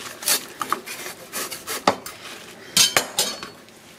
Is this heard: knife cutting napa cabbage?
yes